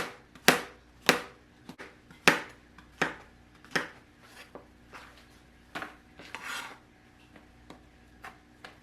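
Knife trimming the stems off mushrooms on a cutting board, a dozen or so sharp chops and taps at an irregular pace, close and fairly quiet, with a soft rubbing scrape near the end.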